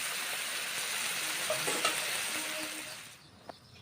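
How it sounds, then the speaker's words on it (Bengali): Vegetable curry in a pan sizzles and hisses loudly after spice-washing water is poured in, with a few soft stirring scrapes and a clink before the sizzle drops off abruptly near the end. "জল দিয়ে নেড়ে চেড়ে নিচ্ছি"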